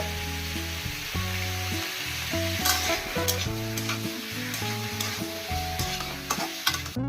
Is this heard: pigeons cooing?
no